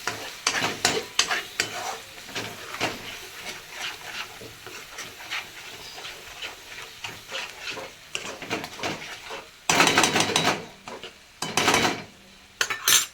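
Onion frying in a pan for Malvani sukka chicken, with stirring scrapes and utensil clinks over a steady sizzle, and louder bursts of stirring near the end.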